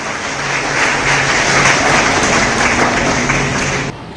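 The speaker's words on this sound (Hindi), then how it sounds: "अतिथियों का स्वागत, तालियां हो जाए।" Loud, close applause from an audience welcoming guests at a college teachers' honour ceremony, a thick burst of clapping lasting a few seconds before it drops off abruptly.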